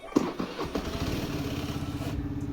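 A scooter engine, running on a recharged and desulfated battery, catches after a clunk and settles into a steady, close, rhythmic putter for a couple of seconds.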